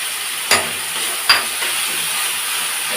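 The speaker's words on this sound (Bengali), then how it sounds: "এটা আদা রসুনটা একটু ভালো করে কষিয়ে নেব" Ginger-garlic paste fries in a pan with a steady, close sizzling hiss, broken by two sharp knocks of a utensil against the pan about a second apart.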